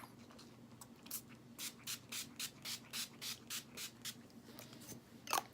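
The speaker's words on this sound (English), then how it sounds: "we have the Wet n Wild Photo Focus that's matte finish setting spray." A rapid series of short, quiet spritzes from a Wet n Wild Photo Focus matte setting spray bottle, about a dozen pumps in an even rhythm over a low hum.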